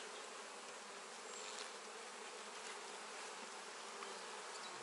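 Honeybees drone steadily in a spring hive with capped brood, a dense, continuous buzz of many insects close by, with no voices.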